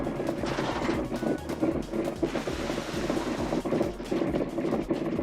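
A big cannon fires in the video game Park Beyond, a dense loud barrage of booming blasts and rumbling that continues without pause, with no voice heard.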